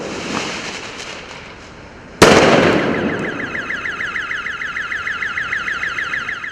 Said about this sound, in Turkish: Gaziantep'te eylemciler tarafından polise atılan bir bomba işte böyle patladı